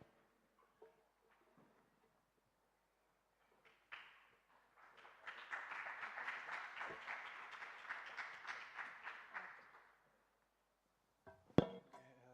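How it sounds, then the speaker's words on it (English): An audience at a startup pitch competition breaks into applause after a few scattered claps, building to a steady round of clapping for several seconds before fading out, moderately distant. "let's give a big applause to M2Sensors S"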